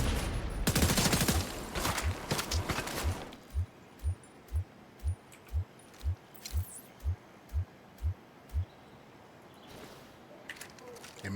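A machine gun fires in a video game, opening with a dense, loud burst of rapid shots, then settling into a steady run of about a dozen evenly spaced heavy booms before fading out.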